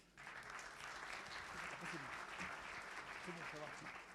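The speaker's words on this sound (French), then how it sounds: "Donc, j'appelle à la barre Dara Sarniran, sous vos applaudissements." An audience at a credit management conference claps steadily throughout, a dense, sustained round of applause with a voice faintly audible underneath.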